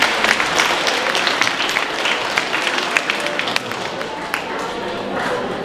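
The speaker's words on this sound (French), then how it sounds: "sous vos applaudissements, s'il vous plaît." An audience at a foundation gathering on Réunion applauds steadily, a dense sustained patter of clapping at moderate loudness with occasional sharper claps and faint voices underneath.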